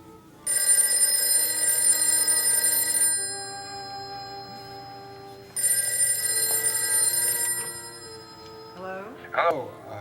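A telephone bell rings in two long, loud bursts separated by a short pause, with a voice briefly speaking over the tail end.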